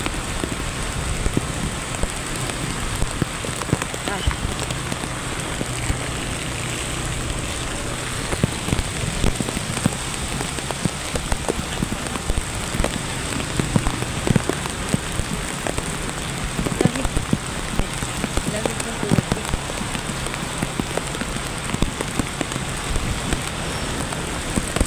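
Heavy rain pours down steadily in a flooded part of Caloocan, a dense continuous hiss with scattered louder drops spattering nearby throughout.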